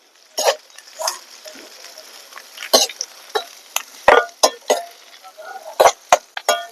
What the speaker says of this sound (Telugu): పచ్చిమిరపకాయలు, ఎండుమిరపకాయలు, ఉల్లిపాయలు ఇవి దోరగా యాగనిద్దాం.